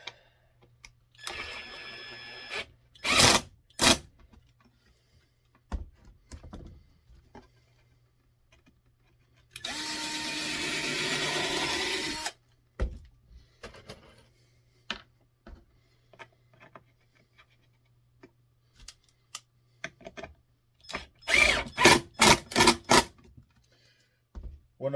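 A drill drives screws into a wooden window box in several short bursts, with one longer whirring run in the middle and clunks of handling wood between them.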